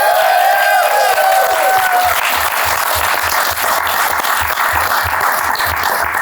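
A comedy club audience at a stand-up showcase breaks into loud, sustained applause and cheering that fills the room, briefly overlapping with a voice at the start.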